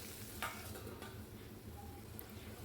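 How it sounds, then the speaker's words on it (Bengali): Okra (bhindi) frying in a pan over a low flame, giving a quiet, steady sizzle with a few light stirring scrapes and a brief clink of metal. Faint and close, with no talking. "এই সময় লবণ দিয়ে ভেজে নিলে ভেন্ডিগুলো অনেকটা সফট হয়ে যায়"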